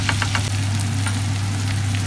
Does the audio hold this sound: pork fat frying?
yes